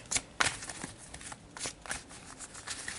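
A deck of tarot cards being shuffled close up, a quick run of papery riffles and taps with brief louder bursts, no talking.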